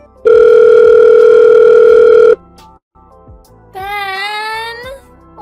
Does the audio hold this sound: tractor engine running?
no